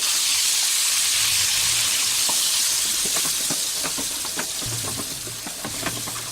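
Ground masala hits hot oil already crackling with cumin, mustard seeds and curry leaves for a capsicum curry, giving a loud, steady sizzle that later eases slightly, with scattered sharp pops and spatters of frying.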